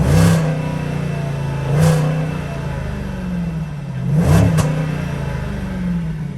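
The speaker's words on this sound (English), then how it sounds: "I'll give it a few revs." A Jaguar XK Portfolio 5.0 V8 car engine idles with a low hum, then revs up in a few separate bursts that rise and fall back to idle, close and loud.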